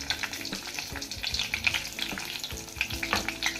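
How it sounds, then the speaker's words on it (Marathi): Cumin and mustard seeds dropped into hot oil sizzle and crackle close by, a busy frying hiss with scattered pops, for a spinach dal being cooked. "तेल हे तापलेलं आहे। आता यात आपण जिरं मोहरी टाकूया।"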